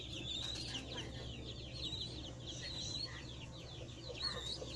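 Three-day-old mixed native chicken chicks cheeping in a group, a continuous chorus of high, thin peeps repeating close by over a low background hum.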